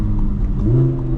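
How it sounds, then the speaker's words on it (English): A supercar with a dual-clutch transmission pulls hard in second gear, a loud engine growl with a rising tone partway through the brief burst, no voices. "Second gear sounds so good."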